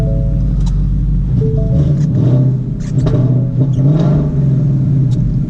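A 2015 Ford Mustang GT engine rumbles close and loud after starting, settling into a deep, slightly raspy idle with small revving swells.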